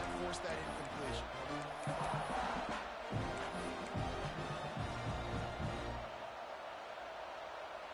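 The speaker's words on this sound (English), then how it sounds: "this crowd is turning it up a notch" Stadium crowd in an American football video game, a steady, loud roar of cheering and noise filling the whole stretch, with commentary voices talking over it.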